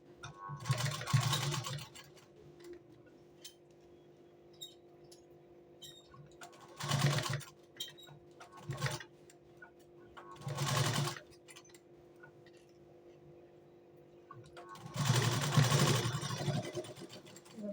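Sewing machine stitching the waist side seam of a boat neck blouse, heard in several separate bursts of close, steady whirring with quiet pauses between them and no talk.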